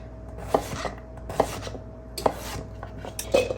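Vegetables being diced into small cubes on a cutting board, with four distinct knife chops spaced about a second apart, close and fairly quiet, with no talking.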